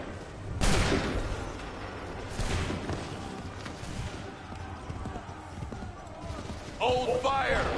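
Musket volleys from ranks of soldiers in Assassin's Creed 3 crack out as broadband bursts, one sharp and loud, then another a couple of seconds later, with a steady battle din in between and shouting voices near the end.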